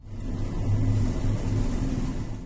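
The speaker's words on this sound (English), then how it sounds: "The footage depicts the SUV speeding towards the plaza before hitting the barrier separating two toll booths." SUV speeding toward a Florida turnpike toll plaza, a loud low rumbling engine roar swelling and holding steady for a couple of seconds with no voices.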